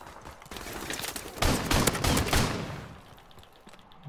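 Burst of video game gunfire, a dense volley of rapid shots swelling loud in the middle then tailing off, with no talking over it.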